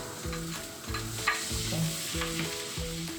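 Salmon fries in a pan with a steady close sizzle, broken by repeated scraping strokes of a spatula.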